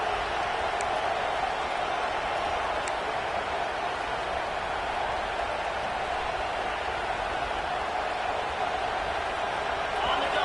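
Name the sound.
college football stadium crowd roaring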